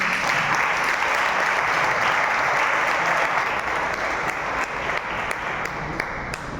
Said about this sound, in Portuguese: Vamos aplaudir a vida dela hoje.